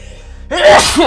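A single loud, close sneeze bursting out after half a second of near silence, sharp and explosive with a short tail.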